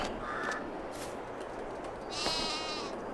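Sheep in Farming Simulator 22 bleat on a winter farm in Hubbard, Nebraska, with a couple of moderate calls over a steady background hum.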